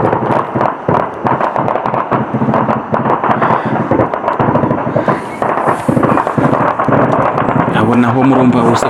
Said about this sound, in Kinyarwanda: Naho murumva urusaku rw'amasasu akaze cyane,